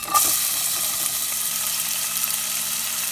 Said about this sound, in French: Laisser revenir légèrement les oignons.